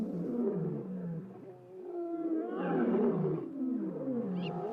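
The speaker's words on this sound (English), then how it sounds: "Every evening, you can hear the lion roar." A lion in an African wildlife conservancy gives a series of deep, loud, close roars and grunting pulses that swell and fade over several seconds, with no other voices.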